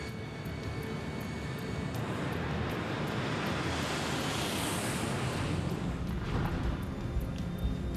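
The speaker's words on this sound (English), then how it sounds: "Copa Airlines Flight 201 takes off for a short flight to Cali, Colombia." Copa Airlines jet taking off from Tocumen International Airport in Panama City, bound for Cali, Colombia: a steady, loud broadband engine roar with wind-like rushing that holds for the whole stretch, with no talk.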